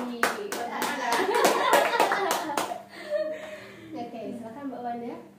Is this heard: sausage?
no